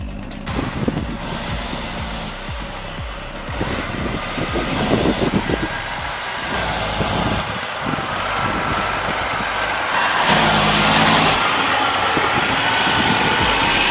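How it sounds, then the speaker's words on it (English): A loaded logging truck crawls onto a barge, its heavy engine rumbling loud and close with a rising turbo whine that builds and surges toward the end. "Love that turbo spool as the loaded rig crawls onto the barge"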